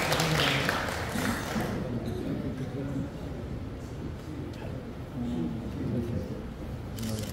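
An audience at an eightieth-birthday celebration for elders in a hall at Herb Island, Pocheon, applauds, a dense spread of clapping that swells at the start, eases and rises again, with speech mixed in.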